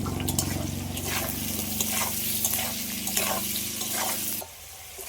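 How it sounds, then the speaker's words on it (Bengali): Potatoes fry lightly in a pan with salt and turmeric, a continuous close sizzle with stirring scrapes that drops away abruptly near the end. "আলুটা ভাজবো হালকা করে একটু লবণ আর হলুদ দিয়ে দিচ্ছি"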